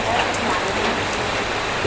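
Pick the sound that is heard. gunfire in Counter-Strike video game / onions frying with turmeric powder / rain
rain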